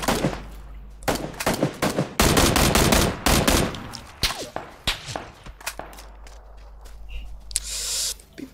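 Bursts of AK rifle fire in the PUBG video game sound loud and close, coming as rapid automatic volleys with short gaps and a few single shots near the end.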